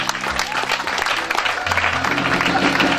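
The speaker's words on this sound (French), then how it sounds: "j'attends les applaudissements" An audience at the opening ceremony of an orphanage inauguration claps steadily, with low tonal music or hum running underneath and some voices mixed in.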